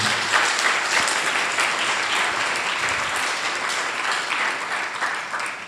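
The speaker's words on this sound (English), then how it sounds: "give a big round of applause to all of them" A large audience at a spiritual retreat morning program breaks into sustained applause, a loud, dense, continuous clatter of many hands that stays strong and even for nearly six seconds.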